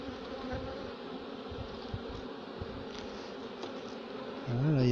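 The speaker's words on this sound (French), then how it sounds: "c'est une ruche qui se porte plutôt bien au bout de 3 semaines" Honeybees at a hive three weeks after a colony split in Val de Dagne drone with a constant close buzz, swelling louder near the end.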